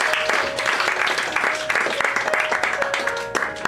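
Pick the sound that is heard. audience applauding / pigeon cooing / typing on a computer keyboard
audience applauding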